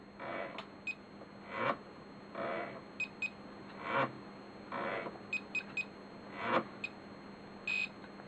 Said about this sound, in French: Le bip du buzzer vous indique, à proximité de l'avion, que l'allumage est en service